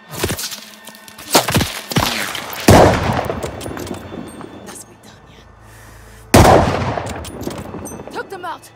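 Gunfire from the Call of Duty Vanguard video game: loud, close cracks and bursts in separate clusters, with echoing tails and quieter stretches between them.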